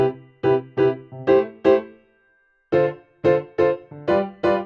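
A piano plays a chord sequence in a varied, bouncy rhythm: five short detached chord hits, a brief pause with a faint lingering note, then five more punchy chords, each clipped rather than held, with no voices.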